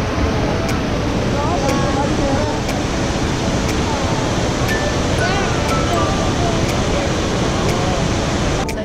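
A constant, heavy roar of rushing water from Iguazu Falls in Argentina, loud and unbroken, with wind buffeting the microphone.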